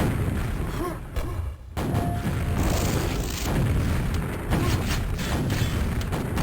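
Booming grenade explosions and gunfire in a fast arena shooter duel, dense and continuous with repeated heavy thumps and a brief dip in the middle.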